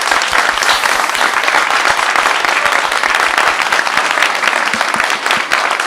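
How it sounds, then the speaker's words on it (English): A large audience gives loud sustained applause after Dr Ruha Benjamin's keynote, a dense continuous roar of clapping close and filling all six seconds. "Big applause for her."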